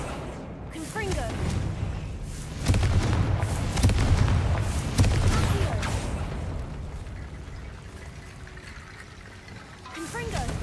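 Fiery Confringo spell blasts in the Hogwarts Legacy video game, a run of loud, booming bursts close together, heaviest in the middle, over a rumbling battle bed with a voice now and then.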